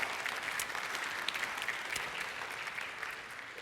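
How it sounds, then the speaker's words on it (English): A church congregation claps during a sermon, a steady, fairly quiet spread of applause from a crowd, continuous and even for several seconds. "I didn't mean for anyone to clap"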